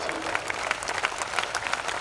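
An audience at a comedy poetry show claps in a brief, steady burst of applause, dense and fairly close, with no voices standing out.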